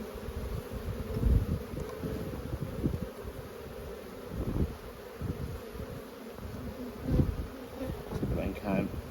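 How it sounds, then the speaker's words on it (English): Honey bees buzz continuously around an open hive frame of pollen during a beekeeping inspection at Lowanna, a close, dense droning hum with individual bees swelling louder as they pass near. "Nice friendly bees."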